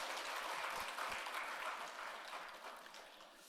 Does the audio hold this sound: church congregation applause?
yes